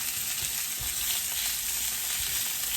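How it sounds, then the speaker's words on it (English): Carrots sear in a single layer across a hot pan, laid flat against the bottom to char, giving a dense continuous close sizzle with a few soft knocks underneath and no talking. "Try to make my carrots single file if I can, so they're all touching the bottom of the pan. Get a nice char on them."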